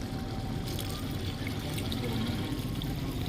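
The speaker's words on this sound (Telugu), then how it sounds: "కొన్ని నీళ్ళు పోస్తున్నావా?" Water pours steadily into a pot of Andhra-style chicken curry, a constant splashing gush that lasts the whole time with no talking.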